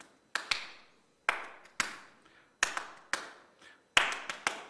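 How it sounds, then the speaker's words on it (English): Close, dry hand claps beat out a ring shout rhythm alone, in irregular groups of sharp slaps with short gaps between them. "So the ring shouter clap, and I'm going to try, but I'm not very good at this"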